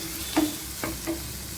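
Chopped onion and capsicum frying in a little oil, a steady close sizzle with a few scrapes of stirring across a short stretch, no voices.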